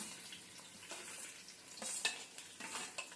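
Onions frying in a pan for gongura chicken, a quiet close sizzle broken by a few scraping stirs of a spoon.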